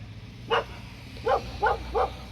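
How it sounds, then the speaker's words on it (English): A boxer dog barks in the background of a garage during a motorcycle turn-signal install: one bark, a pause, then three quick barks, moderately distant over a low steady hum. "That's my crazy boxer barking in the background."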